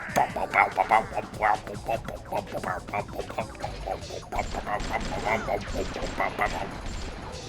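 A dog in a horror video game barks in a quick run of sharp, loud yaps at the start, then keeps barking under a dense, crackling background of game noise.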